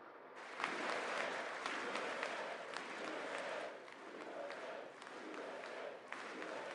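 A large crowd in the House chamber at the State of the Union applauds and cheers in a dense, sustained roar that starts abruptly and rolls on with steady clapping and shouts.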